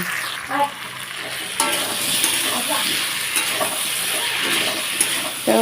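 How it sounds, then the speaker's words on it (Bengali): Spice paste is stir-fried in a pan as its water cooks off, giving a loud, constant sizzle broken by periodic scraping stirs and occasional utensil knocks. "মশলাটা প্রায় আমার জলটাও শুকিয়ে একদম ভাজা ভাজা হয়ে আসছে"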